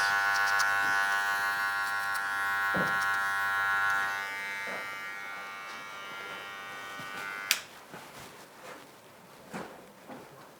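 Electric hair clippers with the lever open buzz steadily while fading hair at close range, then cut off abruptly with a sharp click, leaving faint handling rustles.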